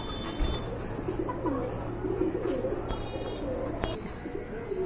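Quality Lahori pigeons kept in pairs for sale coo softly amid a steady background hum and bustle, low throaty calls repeating faintly with no clear talk over them.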